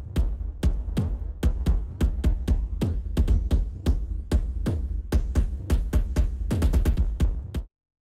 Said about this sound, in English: I use Damage 1 for the kick sound.